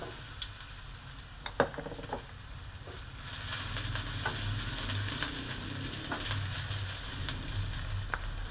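Garlic sautés in a pan with a bright sizzle that swells after a few seconds, punctuated by clinks and scrapes of stirring, close, with no talking.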